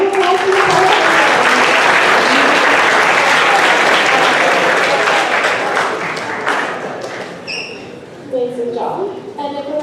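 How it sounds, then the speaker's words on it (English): A spoken-word poetry audience for high school performers breaks into loud, sustained applause with cheering, fading somewhat toward the end as scattered voices and a few claps remain. "Round of applause for the"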